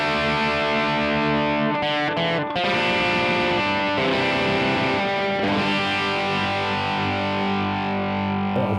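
Distorted electric guitar plays the intro riff of a song slowly, with a chorus-like effect; sustained, full chords ring loud and steady, with a brief break near the start.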